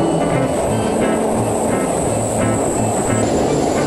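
Nozomi bullet train approaching on a platform in Japan, a loud continuous rushing roar held at a steady level over the few seconds.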